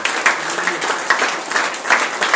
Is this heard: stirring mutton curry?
no